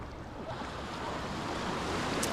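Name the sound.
ocean waves on a California beach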